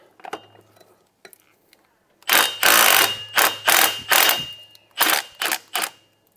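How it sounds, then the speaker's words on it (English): An impact wrench working the nuts on a Volvo 240, a series of loud, close rattling bursts of hammering, each lasting under a second, separated by short pauses. "Impact wrench."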